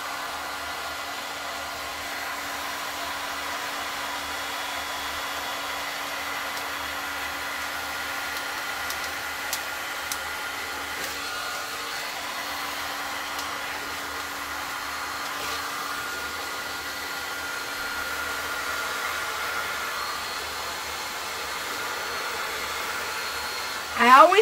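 A heat gun with a skinny nozzle blows over a resin pour to form a 3D wave, giving a steady close whooshing hum with a faint whine that holds unbroken throughout.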